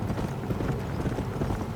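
Steady clip-clop of horse hooves in the Red Dead video game, a continuous trotting rhythm at close range with no talk over it.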